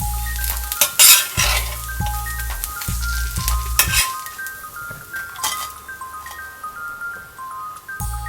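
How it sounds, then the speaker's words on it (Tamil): Rava dosa of semolina and onion on a sizzling pan, with metal utensils clanking and scraping against the pan in loud bursts over a steady fry, then lighter clinks and sizzle continuing. "இப்போ நம்ம தோசையை எடுத்துடலாம்."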